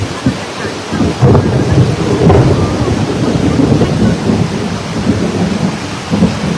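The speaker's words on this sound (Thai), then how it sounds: "จ้าฝนตกนักแม่" Heavy rain pours down with rolling thunder, a loud continuous roar broken by deep rumbling swells and cracks, close and alone without voices.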